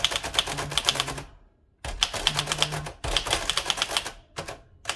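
Crisp, rapid keystrokes clatter from a 1947-1949 Adler Favorit 2 thrust-action typewriter in bursts of typing, broken by short pauses, each strike close and distinct with a faint bell-like ring.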